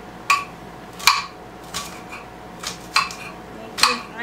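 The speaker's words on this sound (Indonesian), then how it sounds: "Bahannya yang pertama itu aku mau cincang ini, green onion." Green onion chopped with a knife on a cutting board: about six sharp, separate knife strikes at an uneven, unhurried pace, close and clear over a quiet room background.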